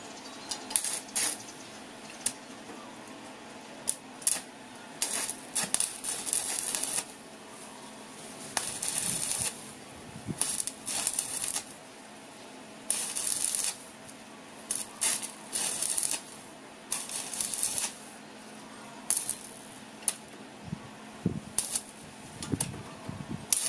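Tack welding on thin steel gives short bursts of crackling, sizzling arc noise that start and stop again and again, each lasting a second or two, spread over a quiet background.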